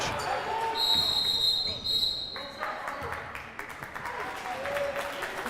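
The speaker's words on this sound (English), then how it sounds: "Some clapping from the Frisch bench." Players on the Frisch bench clap during a high school basketball tournament semifinal against Ramaz. Moderate clapping in a gym comes with sneaker squeaks and ball activity, while a commentator talks over it.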